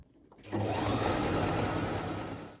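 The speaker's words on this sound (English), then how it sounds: "So I am going to sew the inside fabric." A sewing machine stitches the inside lining fabric of a handmade haori kimono jacket, starting after a brief quiet moment and then running in a steady, close, continuous whir for the rest of the clip.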